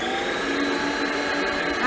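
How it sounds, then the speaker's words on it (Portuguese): An electric mixer whirs steadily as it beats eggs with sugar into a pale, airy cream for a pistachio cake, a continuous motorized drone with no break. "vamos bater os ovos com açúcar até essa mistura se transformar em um creme clarinho e aerado"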